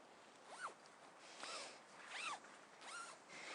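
Tent door zips on a Black Wolf Turbo Air Plus tent being pulled open and shut: four quick, close rasping zipper strokes spaced about a second apart, faint and with no talking.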